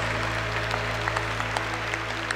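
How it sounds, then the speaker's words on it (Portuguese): A church congregation claps in steady, dense applause, a continuous wash of hands over a low hum from the sound system, close and even throughout. "Aplauda a escolha do irmão que está aí do seu lado,"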